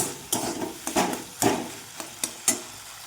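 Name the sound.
frying and stirring potatoes and mussels in a pan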